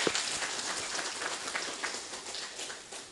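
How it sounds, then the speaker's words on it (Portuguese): A lecture audience gives a sustained round of applause, steady dense clapping that fills the room for the whole stretch with no voices over it. "Salva de palmas pela colaboração."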